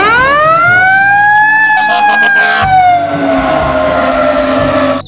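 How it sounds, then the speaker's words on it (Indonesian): A loud electronic toy fire truck siren wails, its pitch rising then sliding down, with tapping and clicking noises mixed in. "Wah, ini mobil pemadam kebakaran."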